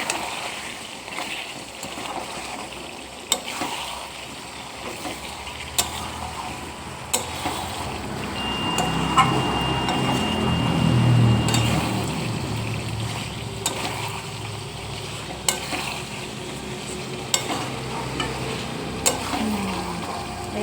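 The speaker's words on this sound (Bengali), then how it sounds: "আলুগুলো দিয়ে ভালো করে এখন কষাবো।" Mutton and potatoes stir-fried together in a pan, a broad steady sizzle with occasional scraping and stirring knocks at a moderate level, no talking.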